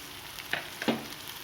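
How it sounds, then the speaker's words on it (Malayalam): Curry leaves tempering in hot coconut oil for a banana flower thoran, giving a faint steady sizzle with two brief crackling spits close by. "കറിവേപ്പിലയും താളിച്ചു കൊടുക്കാം കറിവേപ്പില കണ്ടിട്ട് വെളിച്ചെണ്ണ ഒന്ന് മുകളിൽ കൂടെ തുളിച്ചു കൊടുക്കുക"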